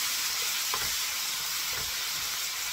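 Sake is poured into a hot pan of stir-fried udon noodles, producing a loud, continuous hiss and sizzle with a few soft stirring clunks.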